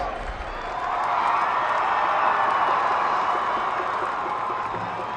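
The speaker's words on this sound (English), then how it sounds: "Let's give these two fine teams a big round of applause." A large crowd applauds and cheers for the Piqua Indians and Pickerington Central Tigers after the 2006 Division 2 state championship game, a steady, full roar of clapping and voices in a big arena.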